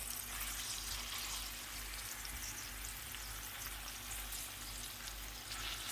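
Sliced potatoes for a Spanish tortilla frying in oil in a pan, a steady, loud, even sizzle that holds without pause, with no talking.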